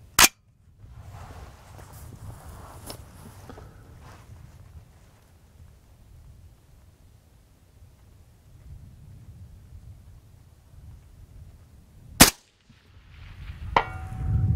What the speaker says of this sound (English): So let's go ahead and shoot this and see what we come up with at 400 with the VKR20.